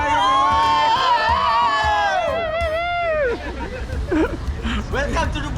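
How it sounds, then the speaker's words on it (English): A large crowd gathered in Kota Kinabalu, Malaysia, makes a loud mass of cheering, shouting voices and babble, with excited calls rising above a constant dense hubbub. "And we got a massive crowd."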